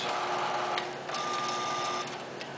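A Covana C2 unit's motor whirs steadily while lowering the unit back down, a continuous mechanical drone with a faint tonal whine partway through, heard alone without talk.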